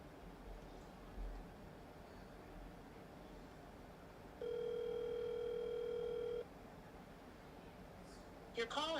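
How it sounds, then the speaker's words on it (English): A steady electronic voicemail tone on a phone call sounds once for about two seconds, loud and clear over a faint line hiss, with a brief garbled bit of voice right after it. "At the tone, please record your message."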